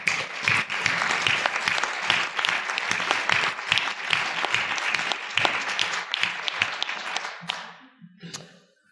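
An audience at a public hearing on health insurance network standards bursts into applause, a dense burst of clapping that holds steady for several seconds before thinning out and fading.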